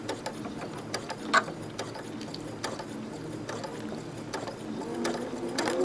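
Sewing machine stitching slowly over a thick seam on a Dutchman's Puzzle quilt block, soft irregular mechanical clicking and whirring at low volume, with no voices.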